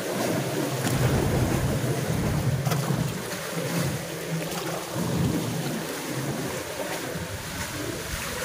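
Steady rush of choppy lake waves at the shore with wind noise, loud and continuous throughout, no voices.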